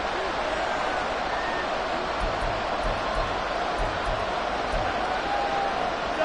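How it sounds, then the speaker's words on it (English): The Arrowhead stadium crowd in the Madden football video game gives a continuous, dense roar throughout, with a voice talking over it. "The Arrowhead crowd in full roar"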